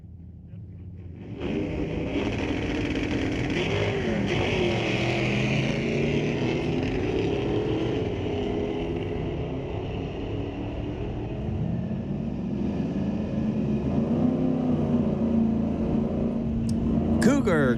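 A 1968 Cougar and a 1996 Camaro drag racing at Mission Raceway Park street legal drags, heard as a loud sustained engine roar that starts abruptly and holds steady to the end, under a voice talking.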